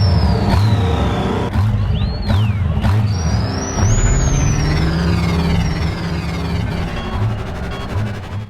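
Star Wars Phantom Menace pod racer engines roaring, a dense, loud, continuous mechanical drone with a pulsing low throb and whining, sweeping high tones passing through.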